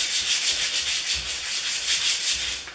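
Steady abrasive rubbing scours rust pitting and burrs off a Kubota snow blower part, a close, continuous back-and-forth scrape with regular strokes and no talking.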